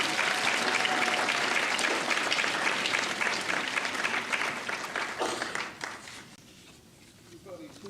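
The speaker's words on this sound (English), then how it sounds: "So let's give them all a big round of applause." Audience applause fills an awards ceremony for a state National History Day contest, a dense, steady wash of many clapping hands that tapers off toward the end into scattered claps.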